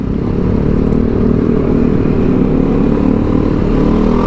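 A Yamaha XMAX scooter fitted with a Veloscope accelerates hard in traffic, its engine droning loud and steady close by throughout, with no voices over it.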